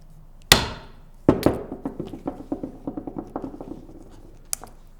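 Repeated medium hammer blows on a snap removal tool knock a snap cap loose, starting with a couple of sharp, loud strikes and followed by a steady run of lighter, evenly spaced taps.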